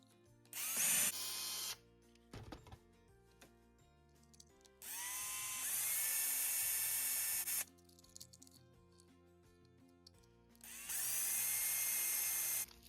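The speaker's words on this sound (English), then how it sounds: "Now the mounting posts are drilled out on both vehicles" Power drill boring out the plastic mounting posts of a toy car in three loud, sustained whining bursts separated by quieter pauses with small handling clicks.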